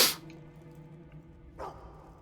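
A single short sneeze bursts out loudly at the start inside a Fable 2 game scene, followed by faint ambient hum and a brief softer breathy noise later.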